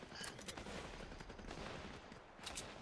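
Gunfire in a Fortnite match, a quick burst of rapid shots blending into a dense crackle over about three seconds, fairly faint and distant-sounding.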